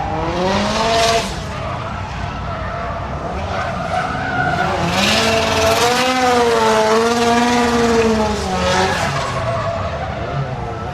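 Mazda MX-5 drift car at a D1WA drifting round, its tyres squealing loudly in long wavering screeches with engine roar beneath, sustained and close throughout.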